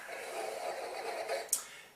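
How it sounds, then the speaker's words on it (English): Someone sniffing wine deeply from a glass with the nose held down inside it, a long soft airy inhale ending in a brief sharp snort, close and quiet. "Doing a sniffy sniff, you have to put your nose really down into the glass"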